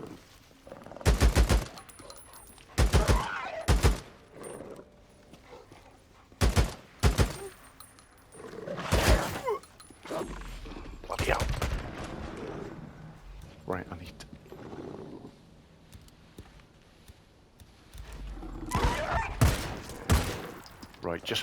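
Gunfire in the video game Days Gone: several loud bursts of rapid shots with gaps between, mechanical clatter of a weapon, someone talking between and over the bursts.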